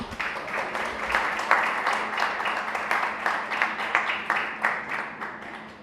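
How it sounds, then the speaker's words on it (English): Audience applause at the official opening of a youth centre with a community lunch: steady, dense clapping from a crowd, moderately loud and sustained throughout with no talking over it. "Another round of applause,"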